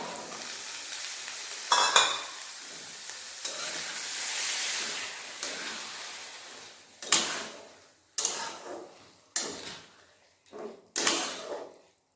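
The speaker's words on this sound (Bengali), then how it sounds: "এরপর ওর মধ্যে দিয়ে দেবো সিদ্ধ ছোলা" Boiled chickpeas tumble into a hot pan for a chola alu ghugni and fry, a hissing sizzle followed by a string of brisk stirring scrapes and knocks with brief quieter gaps.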